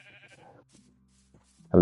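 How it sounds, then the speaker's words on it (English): Sheep bleating in the video game Minecraft, a short, loud single bleat near the end after a quieter stretch of faint game sounds. "sheep."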